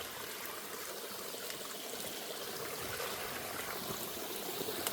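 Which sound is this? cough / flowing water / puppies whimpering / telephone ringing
flowing water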